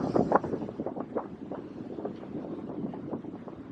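A boat engine rumbles steadily while cruising across glassy water in the Pamlico Sound, wind buffeting the microphone. The noise is continuous and fairly close.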